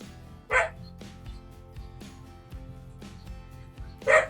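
Two sharp dog barks, one early and one near the end, sound over a steady background of rhythmic music.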